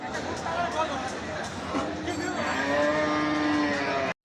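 Cattle moo and low repeatedly at a crowded Eid-ul-Adha livestock market, fairly close, with a drawn-out moo near the end over steady crowd hubbub and nearby chatter.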